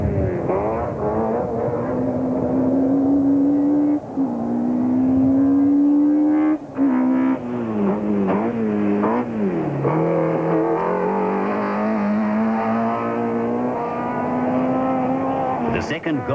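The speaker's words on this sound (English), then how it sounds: "Glenn Hall and Martin Buerter show no signs of caution here on the pass in the rebuilt car." A rebuilt Ford Laser rally car climbs a mountain pass during a 1992 rally, its engine revving hard with rising and falling gear pulls and brief lifts between shifts, loud and close throughout, while a commentator talks over it.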